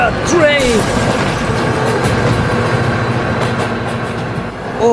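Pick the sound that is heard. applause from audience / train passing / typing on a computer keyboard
train passing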